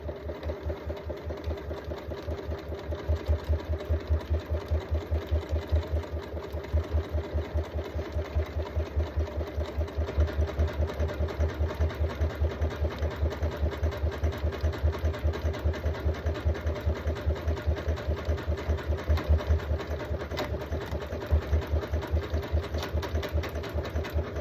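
A sewing machine stitches a zigzag buttonhole on a kitchen hand towel, a steady fast mechanical chatter of needle strokes running evenly and close throughout, with no voices.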